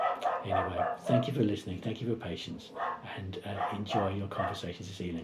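A dog barks in the background of a home setting, its repeated barks running under someone speaking steadily throughout.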